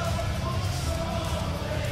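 A large wrestling arena crowd at an AEW Dynamite show sings along to a wrestler's entrance tune, a dense, steady roar of massed voices filling the hall, loud and continuous.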